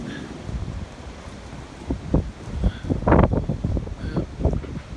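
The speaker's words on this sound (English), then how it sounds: "Yeah, it sure is windy." Gusty wind buffets the microphone in rumbling bursts at a farm, rising and falling over a few seconds, with no talking.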